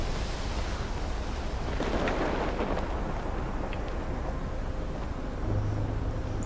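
Storm in the video game Life is Strange, heard near a clifftop lighthouse: continuous loud wind and rumbling weather noise with a deeper swell partway through and no speech.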